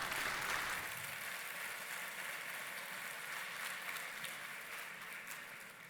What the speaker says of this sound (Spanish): Un fuerte aplauso para el doctor Clinton Crevill.